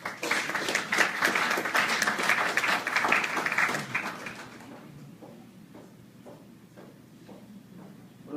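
Audience applause welcoming a presenter at a book launch, loud dense clapping for about four seconds that fades into a few scattered, isolated claps before quiet.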